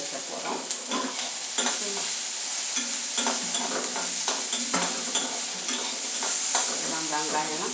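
Sliced onions frying in hot oil in a pan, a constant bright sizzle with irregular scraping and clinking knocks as a spoon stirs them, close and without talk.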